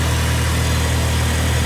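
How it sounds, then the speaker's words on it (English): An electric motor runs steadily in a lab at roughly 2000 RPM, giving a loud, continuous hum with a constant low drone and no pauses or voices. "The motor is running, and now you can take the speed"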